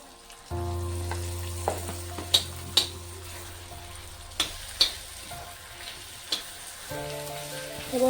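Black masala paste for mutton sukka roasts in a pan with a steady soft sizzle and occasional sharp crackles and stirring scrapes, close and alone.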